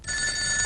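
A telephone rings in a Telugu comedy film scene, a steady bright electronic tone holding for under a second, close and alone with no talk over it.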